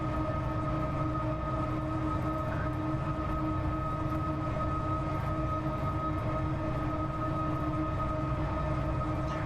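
A BR232 diesel locomotive on the Munich–Augsburg line in Train Simulator 2015 drones steadily with a constant engine hum and rail rumble, unbroken for the whole stretch and without talk.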